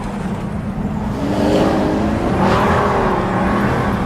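A Pagani supercar climbing a narrow mountain pass road in second gear, its engine droning and then rising in pitch as it accelerates, loud and close from the cabin, with a whirring spool-up.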